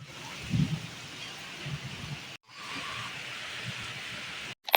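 Rain falling outdoors, a steady soft wash of rainfall with a few low rumbling bumps, cut by two brief dropouts, with no talk over it.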